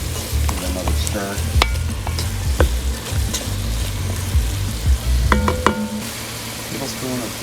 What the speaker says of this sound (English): Put a little onion powder in there. Give it another stir.